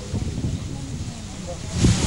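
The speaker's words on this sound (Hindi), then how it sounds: "तेज हवाएं, भारी बारिश" Strong winds of Cyclone Nisarga lash the Ratnagiri coast, a steady roar of broadband wind noise with low rumbling gusts that swell louder near the end.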